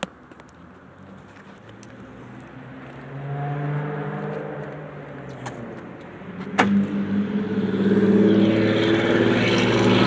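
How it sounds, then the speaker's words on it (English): A car engine with a newly swapped negative battery terminal is started on a dark winter evening, cranking and catching, then revving and settling into a loud, steady run close by. "give it a little starter upper, and we're gonna see how this bad boy runs"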